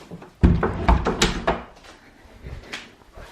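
A kitchen cupboard door swung shut, a cluster of wooden knocks and thunks near the start, then softer rustling and a faint bump as things settle, close by with no talk.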